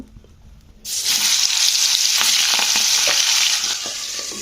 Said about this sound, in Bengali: এইভাবে কিন্তু আমি পাগাশ মাছগুলোকে ভাজি